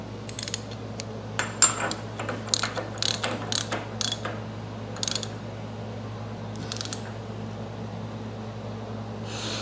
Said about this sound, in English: you tighten the big nut until it bottoms out